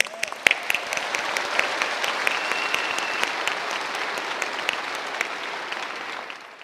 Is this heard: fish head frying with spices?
no